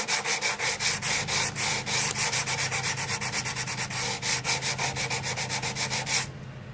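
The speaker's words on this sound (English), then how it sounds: "See if we can sand some of this down." Wooden cabinet of an old Sparton 69 radio sanded by hand, with rapid rhythmic back-and-forth strokes that are loud and close and continue for about six seconds before stopping abruptly.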